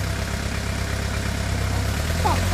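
A car engine idles at close range with a steady low rumble and slight vibration. It keeps running evenly throughout, with a faint higher sound near the end.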